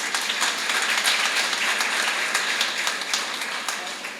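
Audience applause at an annual convention of a blind welfare association, steady, moderately loud clapping that runs evenly throughout with a faint murmur of voices beneath.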